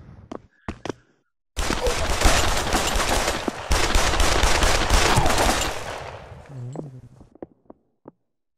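Rapid bursts of pistol fire in Pavlov VR on the Dust 2 map, loud and close, running for several seconds after a few sharp isolated shots, then tapering into scattered single reports.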